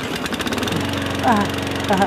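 A voice imitates a smoothly running lawn mower with a steady buzzing hum that swells twice toward the end.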